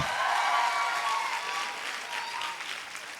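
A crowd claps loudly and steadily, the dense applause tapering slightly toward the end.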